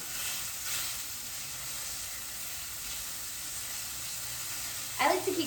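Chicken fries in a hot pan with a steady, bright sizzle and hiss that runs throughout. A short clatter near the end sounds like the pieces being turned.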